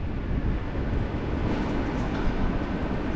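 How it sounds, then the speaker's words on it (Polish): A steady, broad rumble of a suburban train departing Pavshino station near Moscow, low-heavy and continuous with no distinct clacks, fairly close and even in level throughout. "Właśnie odjeżdża pociąg podmiejski stacja Pawszyna."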